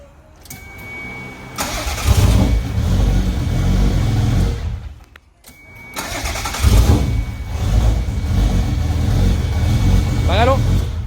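A Toyota MR2 with a V6 turbo swap cranks and catches, idling roughly, then cuts out and cranks to life again, running loud and close with brief revs, while people talk in the background.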